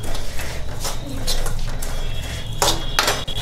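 Spoon scraping and clinking against a pan while almonds and grated dried coconut are stirred and slowly roasted over a low flame, a steady low rumble with a few sharp metallic clinks.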